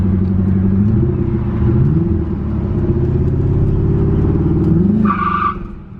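A Chevrolet Corvette ZR1 roars at high revs in a long, loud tire-spinning burnout, with the engine note rising and falling throughout. A brief squeal cuts in near the end before the sound drops away.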